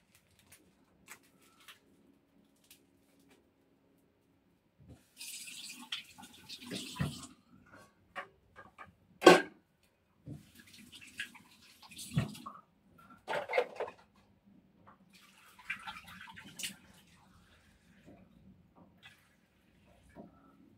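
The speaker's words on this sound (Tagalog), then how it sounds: "Sa pagtutubig po, hindi ko siya binibiglang lagyan ng tubig." Water is poured gradually into a cooking pot for ginataang bilo-bilo, coming as faint, intermittent splashes and trickles in a quiet room.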